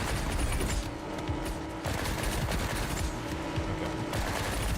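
Sustained video game gunfire, dense overlapping automatic bursts and shots forming a continuous loud barrage for the whole stretch with no gaps.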